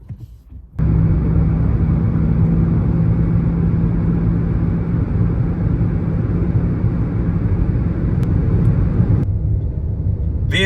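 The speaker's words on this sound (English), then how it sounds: "Vehicle's driving nice and smooth and steady" A car drives smoothly and steadily on the road, its engine and tyre rumble a constant, loud, close drone that runs without change for about ten seconds after a brief quieter start.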